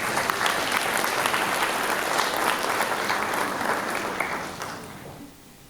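Sustained audience applause at a Richardson ISD Dollars for College event honoring community partners, a dense, steady clatter of many hands that holds loud for several seconds and then gradually thins and fades toward the end.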